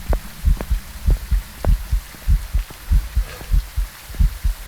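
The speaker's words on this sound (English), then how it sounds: "I can still hear his heartbeat" Ghost heartbeat in the video game Phasmophobia, a loud, steady thumping pulse of paired low beats repeating throughout over a faint hum, with no talking.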